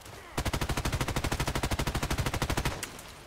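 Rapid automatic gunfire from the online shooter Contract Wars: a steady stream of evenly spaced, punchy shots lasting about two and a half seconds, then stopping abruptly.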